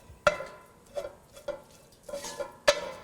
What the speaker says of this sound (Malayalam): മസാലപ്പൊടികളുടെ പച്ചമണം മാറുന്നത് വരെ വഴറ്റുക.